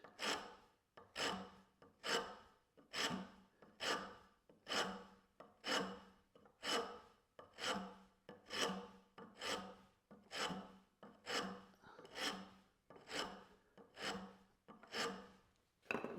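A wood rasp is pushed across wood in long, even rasping strokes, about one per second, repeated steadily over sixteen seconds, close and moderately loud, with no speech.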